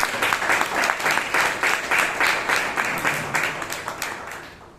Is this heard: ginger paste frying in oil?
no